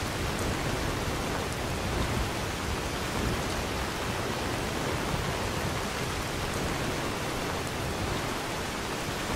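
A steady, dense hiss of video game rain pours without pause at an even level throughout, broad and enveloping with no voices.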